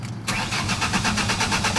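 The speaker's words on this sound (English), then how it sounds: "Crank no start, no RPMs" A 2001 Ford Ranger engine cranking without firing, with a rapid, even starter-motor chugging that begins abruptly and continues loud and close.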